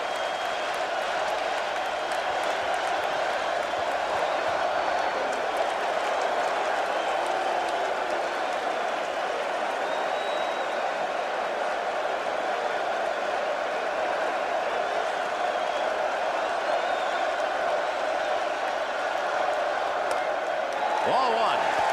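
A packed baseball stadium crowd during Game 7 of the 1986 World Series between the Boston Red Sox and New York Mets, roaring and cheering continuously, with an announcer talking over the sustained din.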